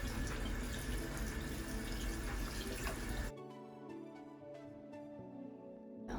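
Faucet running cold water to rinse a bleach tie-dyed garment, a steady close rushing stream that drops to a softer, thinner trickle partway through, with faint splashing.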